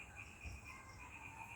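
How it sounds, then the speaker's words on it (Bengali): Crickets chirp steadily through a monsoon evening, a soft continuous high trill with several layered bands holding level and unbroken, faint and distant. "ঝিঝি পোকারা ডাকছে"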